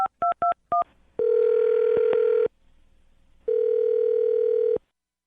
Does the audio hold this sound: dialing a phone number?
yes